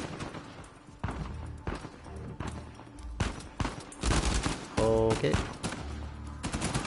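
Rapid gunfire in the action video game Uncharted 4: A Thief's End, loud bursts of automatic shots and crashes coming close together, with a brief spoken word in between.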